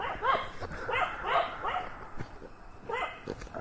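Two dogs bark in short bursts of sharp yaps and yips at moderate distance along a waterfall footpath, with brief pauses between volleys and faint outdoor background.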